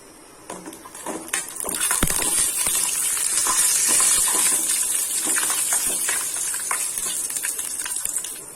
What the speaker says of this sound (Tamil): நெய் நல்லா ஹீட் ஆனதோ இதுல 10 முந்திரி இருக்கு. இதை நாம பொரிச்சு எடுத்துக்கலாம்.